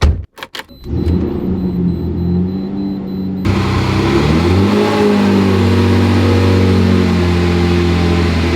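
A rebuilt Lamborghini Murcielago with an on-and-off oil leak, its engine revving as the car drives off: a few sharp blips at the start, then a steady loud engine drone that rises in pitch as it pulls away.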